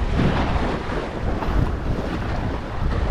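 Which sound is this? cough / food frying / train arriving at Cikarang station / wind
wind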